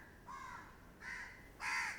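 Crows caw three times in a row, harsh nasal calls spaced about half a second apart, the last one loudest and nearest, over a quiet open-air background.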